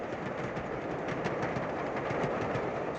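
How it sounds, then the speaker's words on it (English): The Gresley A3 steam locomotive 60051 Blink Bonnie runs on a main line in the early 1960s, heard as a steady rushing roar with a rhythmic clatter beneath, moderately loud with no voices. "60051, Blink Bonnie, was one of the last of her kind, the Gresley A3s, in regular service."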